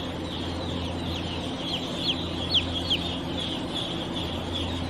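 Newly hatched chicks on a chicken farm give soft, repeated high peeps, with a few louder chirps standing out over a constant low background hum.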